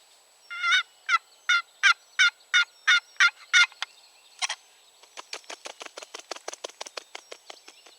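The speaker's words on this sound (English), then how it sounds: "Did you hear a gobble?" A wild turkey gobbles in a rapid rattling burst, followed by a second, fainter run of quick gobbling notes, with no talk.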